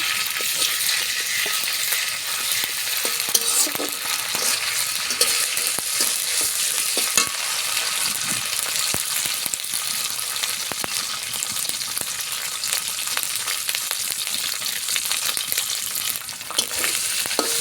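Ginger paste fries lightly in a pan for a village-style desi chicken curry, making a dense, steady sizzle and crackle with scattered pops and occasional stirring scrapes, close and continuous throughout with no voices.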